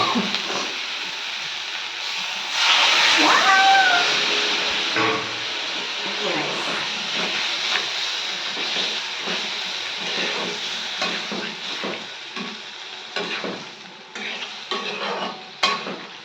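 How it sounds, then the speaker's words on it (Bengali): Water hits a hot pan of young jackfruit and potato, bursting into a loud hiss and sizzle that gradually settles into softer bubbling with occasional stirring clinks. "এবার আমি একটু জল দিয়ে দিই।"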